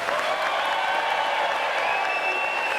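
A crowd of teachers at a back-to-school event cheers and claps together, a sustained, loud wash of voices and hands with no single speaker standing out.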